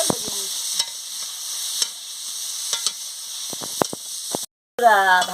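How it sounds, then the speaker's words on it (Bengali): Cauliflower and potato pieces frying in oil and being stirred in a pan, soft background sizzle punctuated by sharp utensil scrapes and knocks, ending with a short gap and a fresh burst of sizzling. "ফুলকপি আলুটাকে ভালো করে ভেজে নিচ্ছি।"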